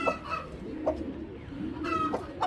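A big-bodied breeding pair of pigeons gives several short, throaty calls spaced across a few seconds, near and moderately quiet over a low background hum.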